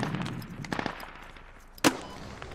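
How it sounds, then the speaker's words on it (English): Scattered gunfire in the video game Squad: a quick cluster of muffled shots followed by one sharper, louder crack, sounding somewhat distant amid low background noise. "I need machine gun covering fire"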